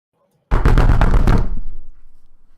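A rapid series of heavy bangs on a door, about six loud close thuds in quick succession that fade into a short reverberant tail, used as a tabletop game sound effect.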